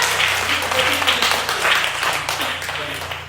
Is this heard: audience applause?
yes